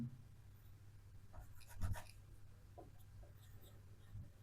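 A question being written on a board during a biology lesson, heard as faint scratchy strokes clustered in the middle of the clip over a low, steady room hum.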